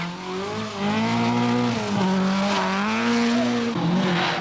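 A Vauxhall Chevette rally car in the 1982 Manx Rally screeches hard through a corner, its tires squealing loudly under a strained, wavering engine note, close and continuous.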